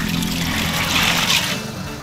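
Rice-field snails and noni fruit and leaves are washed by hand in water, giving close, continuous sloshing and trickling with no voices.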